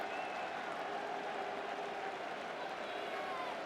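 A football crowd applauds Gianfranco Zola's clever FA Cup goal, a broad sustained roar of clapping and cheering from the stands, steady and fairly loud throughout.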